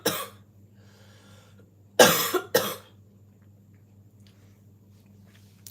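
A person coughs indoors in a warm room, a short burst at the start, then two loud coughs close to the mic with quiet room hum between.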